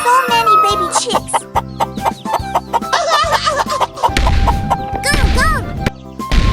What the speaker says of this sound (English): there are so many baby chicks.